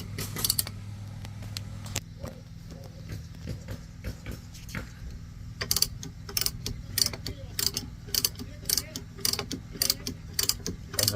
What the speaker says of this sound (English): you're going to crank it, and it'll lift up the vehicle